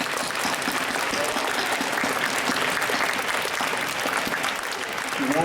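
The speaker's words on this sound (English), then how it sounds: "let's give all our nominees a round of applause" A packed hall applauds nominees at a primary-school young writers awards ceremony in Hong Kong, loud, dense and sustained clapping from many people, steady throughout with faint voices mixed in.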